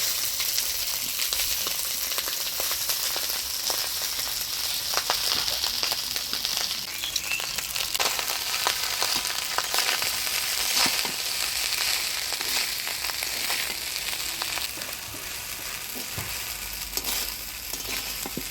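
Boiled rice frying in a pan with whole cumin seeds and curry leaves for jeera rice, a steady close sizzle broken by scraping stirs, with no voices throughout.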